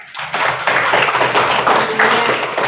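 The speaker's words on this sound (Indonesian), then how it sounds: "Coba tepuk tangan dulu." A class of schoolchildren claps together in a classroom, a loud, dense burst of rapid hand claps that keeps going steadily.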